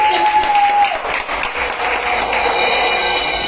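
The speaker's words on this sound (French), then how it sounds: "Applaudissez d'abord pour les femmes." A church congregation at a Sunday worship service applauds with dense, sustained clapping that fills the whole stretch at steady volume, with a brief sustained tone at the start.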